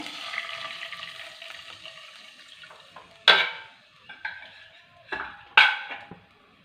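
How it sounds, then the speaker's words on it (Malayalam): Water goes from a glass into a cooking pot of leftover chana dal for a Kerala milk kozhukatta dish. A soft splash runs under kitchen clatter, then several sharp metallic knocks of utensils against the pot. "ഇതിലോട്ട് പിന്നെ ഒരു ഗ്ലാസ് വെള്ളം ഒഴിക്കുന്നേ"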